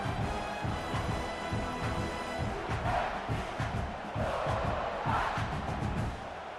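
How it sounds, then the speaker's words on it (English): A stadium crowd in the College Football 26 video game, at an LSU versus South Carolina matchup, roars steadily and loudly throughout, with swells of cheering and no commentary over it. "This crowd, full throat, splitting the eardrums and letting them know it's going to be a long day."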